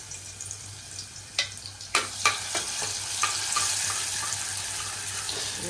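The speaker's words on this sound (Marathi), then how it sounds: "आता लसूण टाकूया" Garlic dropped into hot oil in a pan, a few sharp crackles and pops as it hits, then a steady sizzle that keeps going, close and alone.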